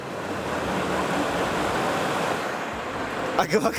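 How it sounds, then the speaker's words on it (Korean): A Wahoo Kickr Bike Shift indoor smart trainer pedalled hard at full power gives a steady, airy whir like a computer cooling fan. A voice cuts in briefly at the end. "지금 이 강하게 밟았을 때도 소음이 우리 일반적인 컴퓨터를 작업할 때 그 쿨러가 돌아가는 듯한 그런 소리가 나는데요"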